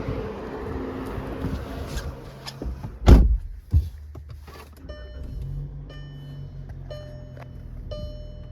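A 2020 Volkswagen Passat starting up: a steady low background hum, then a sharp starter crank and engine catch mid-clip, settling into a quiet smooth idle with faint electronic chimes from the dashboard.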